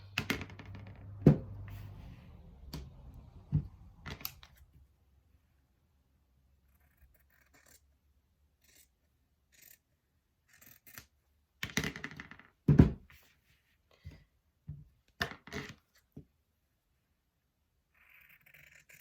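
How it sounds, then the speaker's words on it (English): Scissors snipping fabric on a square in a square quilt block, a few short, quiet cuts near the start and a faster cluster of crisp snips later, separated by near silence. "I'm just going to snip on that X right up to my stitch line"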